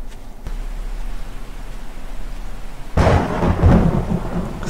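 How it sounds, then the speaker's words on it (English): Thunder in the video game 7 Days to Die: steady rain hiss, then a sudden loud rumbling crack that swells and rolls on over the downpour. "Thunder."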